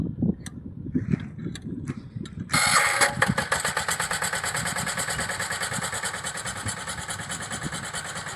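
An engine-powered pesticide sprayer pump starts after quiet clicking handling noises, then runs steadily with a loud, even, buzzing mechanical drone that continues to the end.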